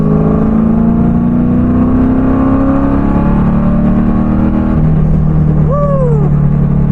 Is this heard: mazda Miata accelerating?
yes